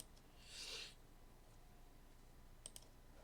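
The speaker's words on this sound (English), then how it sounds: "I'm typing really loud with my old-fashioned keyboard" Keys on an old-fashioned keyboard give a faint clatter of typing, with a short soft burst early on and a couple of crisp isolated clicks near the end, in a quiet room.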